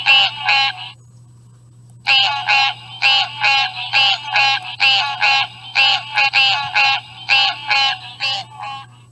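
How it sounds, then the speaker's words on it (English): Green tree frog calling in a fast series of nasal, honking notes, a short burst followed by a steady run of about eighteen evenly spaced calls after a brief pause, loud and close over a low background hum. "A green tree frog."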